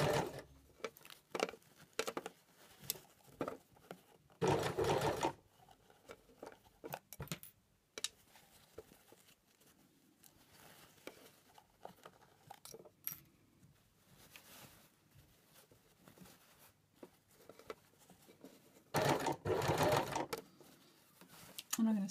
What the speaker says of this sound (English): So I'm stitching here quite close to the folded edge.